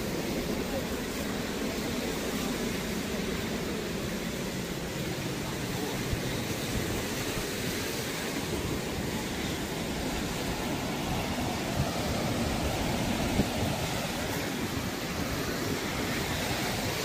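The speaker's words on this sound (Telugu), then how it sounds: "వాటర్ సౌండ్ భలేగా ఉంది." Ocean surf at a beach where seals gather, a constant roaring wash of breaking waves with some wind rumble, steady and moderately loud throughout.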